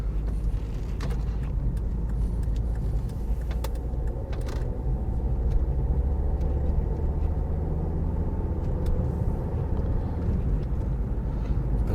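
A car crosses a roundabout on a drive from Sturry to Preston, with a steady close engine and road rumble that runs unbroken from start to finish and no one speaking.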